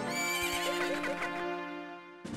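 A horse neighs in the N64 game The Legend of Zelda: Majora's Mask, a loud, close, drawn-out whinny with a wavering tone that fades and then cuts off, followed by a brief thump.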